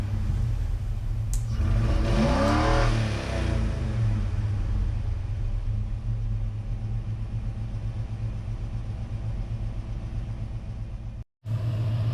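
Steady low rumble of an idling Chevy Squarebody V8 with upgraded cylinder heads, heard up close, with a brief rev swelling early on before settling into an even, continuous drone that cuts out just before the end.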